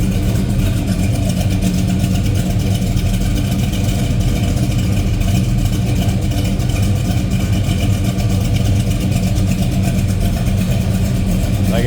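A 1969 Chevrolet Chevelle SS 396 tribute car idles loudly and steadily nearby, its deep engine rumble continuous and unbroken throughout.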